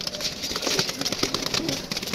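Pigeons coo and flutter close by in a loft, soft rumbling calls layered with rustling and light movement over a short stretch.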